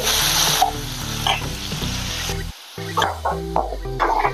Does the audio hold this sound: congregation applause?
no